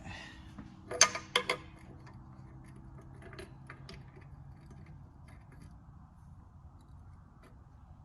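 A wrench tightens a part on a WEN 6-inch bench grinder. A quick cluster of sharp metallic clicks and taps comes close up, followed by faint handling noise and near silence.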